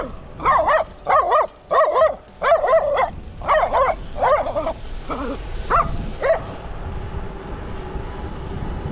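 Loose dogs along a rural road in Georgia bark in a quick series of about a dozen loud, close barks that thin out into fainter yips and calls.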